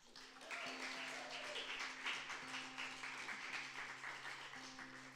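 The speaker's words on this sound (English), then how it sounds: "Have a round of applause for Maddie Morris" An audience applauds Maddie Morris at a live folk gig, a steady moderate wash of clapping that holds for several seconds under a low sustained tone.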